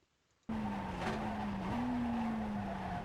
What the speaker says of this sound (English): Start braking here for turn 1 around the 3 marker